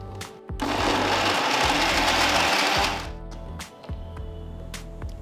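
An electric mixer grinder whirs loudly for a few seconds while grinding a spicy chilli chutney with a little water, then stops, leaving soft clicks and faint background hum.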